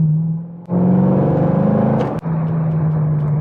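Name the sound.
2011 Corvette Grand Sport engine through quad exhaust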